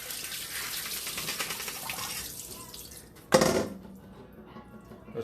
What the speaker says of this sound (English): Give these a quick swish around and pour back through our colander.